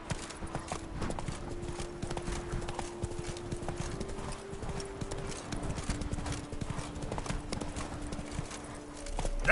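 Roach, a horse in The Witcher 3: Blood and Wine, gallops with rapid, steady hoofbeats close by, over a sustained low tone.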